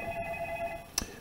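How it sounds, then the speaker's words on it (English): A telephone rings briefly in a quiet room, a steady electronic tone with a short sharper burst near the end, heard alone without speech. "Just give me a second to answer the phone."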